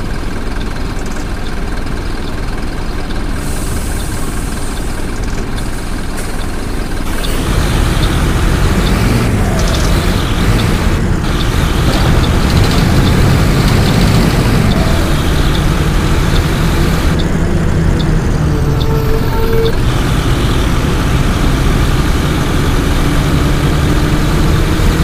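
An old PBSU city bus on line 360 sits idling with a low, steady diesel rumble that grows heavier and rougher partway through, running continuously without voices.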